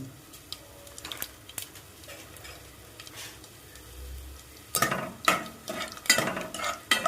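Cumin and mustard seeds crackle in hot oil, with light scattered pops and stirring clinks building into a busier burst of sizzling and scraping toward the end, with no voices.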